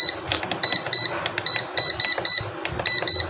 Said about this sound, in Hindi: देखो अलार्म बजने लग गया, ओवर टेम्परेचर पे जाती है